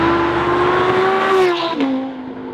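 A 2016 Lamborghini Huracán LP610-4 Spyder's V10 engine hums at a steady, loud pitch, then drops sharply as the dual-clutch gearbox shifts, settling into a lower drone.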